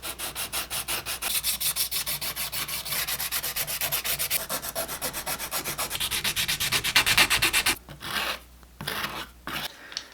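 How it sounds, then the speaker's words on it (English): Steady rhythmic sanding strokes on the edges of scale RC Jeep XJ Cherokee tube-buggy fenders, close and continuous for about eight seconds before breaking into a few shorter rubs and pauses. "I need to sand this down, and then like on the front, I'm just going to round these corners over a little bit"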